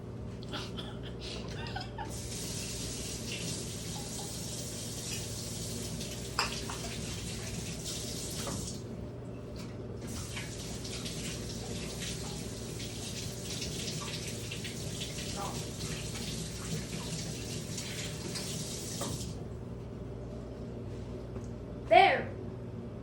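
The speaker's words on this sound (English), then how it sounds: "Wash your hands." A kitchen tap runs in two long stretches for hand washing while scrambled eggs are being made, a steady hiss of water with a brief pause between, as people talk quietly nearby and a sharp clatter follows near the end.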